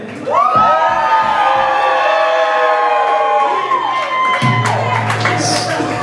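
A large crowd at a live concert in Baltimore screams and cheers loudly, a sustained roar of high shouts and whoops that carries on without a break.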